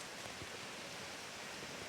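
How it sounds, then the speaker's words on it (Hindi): Heavy monsoon rain pours down during a thunderstorm, a dense, unbroken hiss of water filling the whole space with no voices. "ये देख क्या पानी, देखा कितना पानी पड़ा तेज है।"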